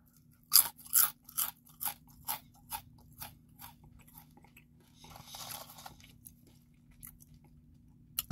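Crunching of jalapeno kettle-cooked potato chips with the upper teeth, close and crisp, a run of distinct bites spaced about half a second apart that fade into softer grinding chews.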